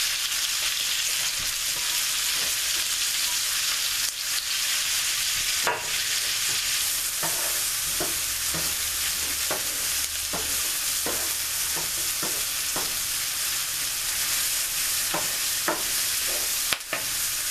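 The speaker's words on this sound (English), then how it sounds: "we're going to saute our mushrooms." Mushrooms and onions sauté in a pan over high heat, a steady loud sizzle running throughout with repeated scraping stirs and occasional utensil clinks against the pan.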